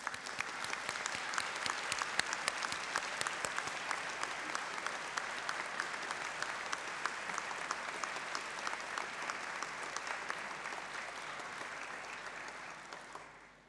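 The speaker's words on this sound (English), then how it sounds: "let's give them a tumultuous round of applause" A long, even wash of applause from a large audience at a university degree ceremony, crowded with many overlapping claps, holding steady at a moderate distance before fading out at the end.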